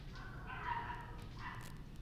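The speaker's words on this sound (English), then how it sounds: "Jeez, my dogs are going crazy." Dogs bark faintly in the distance indoors, two short muffled bursts over a low steady background hum.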